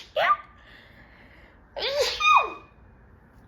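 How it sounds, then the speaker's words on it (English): A short vocal burst followed by a loud, close sneeze a moment later, with quiet room tone between. "I might sneeze."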